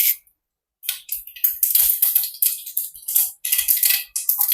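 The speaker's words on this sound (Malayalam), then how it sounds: "കടുക് ഇട്ട് കൊടുത്തു." Mustard seeds hit hot oil in a Kerala kitchen and sputter. Close, bright bursts of crackling and popping come in quick irregular clusters after a brief silent start, with no talk.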